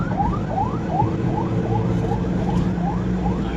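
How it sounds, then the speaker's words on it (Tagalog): An ambulance siren sounds behind a car on a Philippine expressway near the NAIAX Skyway entrance, a rapid, repeating yelp of rising wails heard over steady road and engine noise. "May ambulansya sa likod natin."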